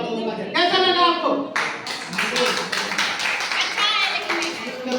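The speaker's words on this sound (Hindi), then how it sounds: "जोरदार ताली हो गया" A small audience bursts into loud, steady clapping near the microphone at a product demo, with a voice briefly speaking at the start before the claps take over.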